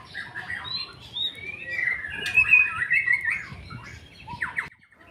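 A white-rumped shama (murai batu) sings nearby in a varied run of clear whistles, chirps and trills that rise and fall over a few seconds, then stops abruptly; no voices.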